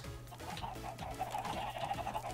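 Chickens cluck repeatedly in Minecraft, a cluster of game fowl producing a steady run of short clucks over a low, constant background hum, with no talking.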